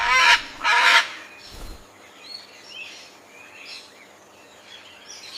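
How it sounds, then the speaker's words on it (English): Two loud, harsh honking calls from a Gentoo penguin open the sound, followed by faint, scattered chirpy calls in the distance. "It's a Gentoo penguin."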